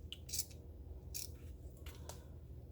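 Scissors snip through fabric seam allowance on a homemade hot or cold compress, a few short crisp cuts in quick succession, close and fairly quiet against a calm background.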